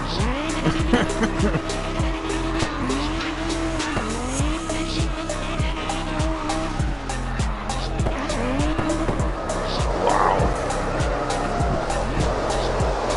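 Audi car engine in the CarX racing video game, revving with repeated gear-shift steps while tires squeal and skid through corners, loud and continuous throughout.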